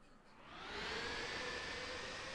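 Jet engines of a Fenix airliner in a flight simulator game spool down, heard as a broad steady roar that swells after a quiet start, with a faint whining tone running through it.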